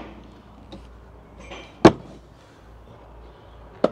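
On a 2024 Itineo PF600 camper van, a storage compartment door opens with a sharp latch clack, followed later by a second, fainter clunk over quiet surroundings.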